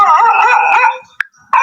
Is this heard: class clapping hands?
no